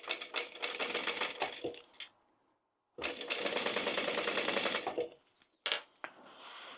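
A sewing machine stitches a double row along a bag strap in two rapid, steady mechanical runs, with a short pause between them and a few light clicks at the end.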